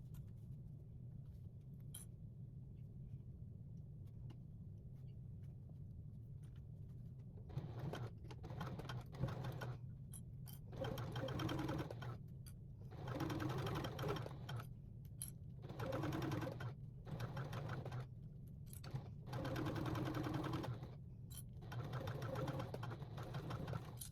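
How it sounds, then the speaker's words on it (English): A sewing machine stitches a tote bag in several bursts of running separated by short pauses, close and steady over a low constant hum. "So now I'm going to sew that together."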